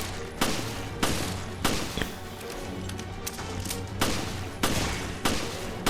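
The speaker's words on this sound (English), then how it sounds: "So I'm going to use my pistol on him." Pistol shots fired in the Resident Evil Revelations Raid Mode, a series of about eight sharp, loud reports spaced roughly half a second to a second apart over a constant game soundtrack.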